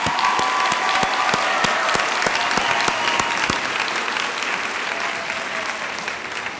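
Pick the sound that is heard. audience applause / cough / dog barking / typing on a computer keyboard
audience applause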